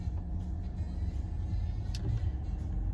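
A car reverses slowly in a parking lot, its engine giving a steady, close low rumble that holds throughout with no speech.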